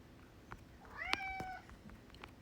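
A single cat meow rises clearly in the middle, fairly faint and set against quiet room noise with a few scattered clicks.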